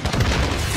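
A flashbang grenade detonates in the Call of Duty: Modern Warfare embassy mission, producing a loud, dense, sustained burst of booming noise that fills the short moment, close and overwhelming, with no voices.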